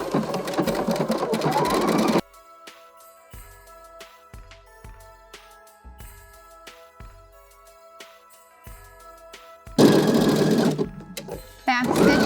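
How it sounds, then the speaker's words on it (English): A sewing machine fitted with a J-foot runs an overcast stitch along the seam of an upcycled fabric gift bag: a loud, close, steady whir for about two seconds, a quiet pause with faint tones, then a second burst of stitching. "I have my J-foot on for my overcast stitch, and I have my overcast stitch select, and I am ready to sew the seam up."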